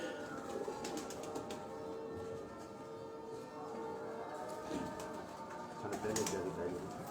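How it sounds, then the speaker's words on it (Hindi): A female Ferozpuri pigeon coos in soft repeated low calls amid a busy outdoor background with other birds and distant noise. "जो फिरोजपुरी कबूतर आपको दिखाया था अली भाई ने, ये उसकी मादा"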